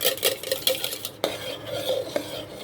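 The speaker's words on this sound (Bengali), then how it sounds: "প্রথমে ডিমটা ফেটে নিব।" A single egg whisked in a bowl for pudding: rapid, close clinks and scrapes of a utensil against the dish, continuing steadily with brief bursts of sharper strikes, and no voices.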